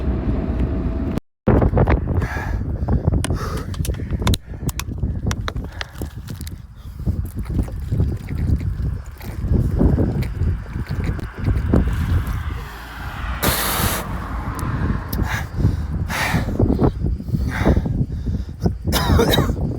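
Strong mountain wind buffeting a microphone during a 10 km training run, loud rumbling gusts that rise and fall throughout, with a brief dropout near the start.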